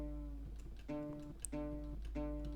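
Short, dry synth notes in a few choppy bursts, each cutting off cleanly with no tail, playing alone.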